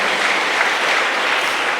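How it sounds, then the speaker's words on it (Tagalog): Loud, dense applause fills a church during a Sunday worship service, a steady unbroken wash of many hands clapping close and full for the whole stretch, with no voices over it. "Malakas na palakpak muna para sa mahal na Panginoon."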